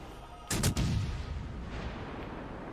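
Naval gunfire in World of Warships Legends, a single heavy boom with a quick double crack, then a long rumbling decay over steady game ambience.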